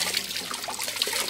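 Water splashes and trickles while a pool is rinsed clean, a brief close gurgling pour, steady and moderately loud, with no speech over it.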